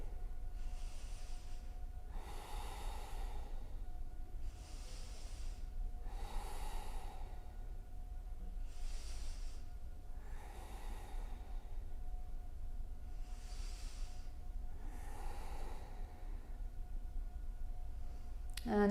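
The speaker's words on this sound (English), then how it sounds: "Take a few breaths here" Slow, deep breaths in a yoga camel pose, about eight airy inhales and exhales in an even rhythm, close and clearly audible over a low steady background hum.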